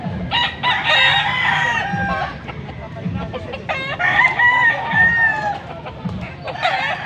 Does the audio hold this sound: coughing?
no